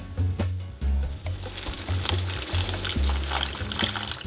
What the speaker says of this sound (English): find a spot where you can pour the water along the edge